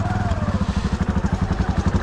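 A Honda Fourtrax 300 6x6 ATV engine labors steadily climbing a hill, a close, loud rhythmic thumping drone with rapid regular pulses.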